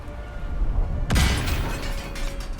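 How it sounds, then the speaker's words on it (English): A sudden explosion in Baldur's Gate 3 bursts out of a low game backdrop with a heavy boom, then a rumbling, crackling tail that lingers for over a second. "Yes, explosions, whoop-de-doo."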